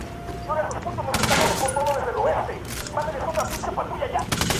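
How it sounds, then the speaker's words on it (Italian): Rapid automatic gunfire crackles in bursts during a firefight in the video game Ghost Recon Wildlands, loud and sustained, with brief overlapping volleys. "Sparo."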